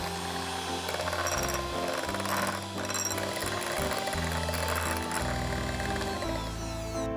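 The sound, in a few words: electric mixer mixing egg and powdered sugar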